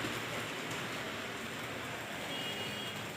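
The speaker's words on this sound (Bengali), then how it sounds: "বৃষ্টিটা মোটামুটি ভালোই হচ্ছে।" Seasonal first rain falls steadily as an even broadband wash of noise, moderately faint and continuous, with no voices.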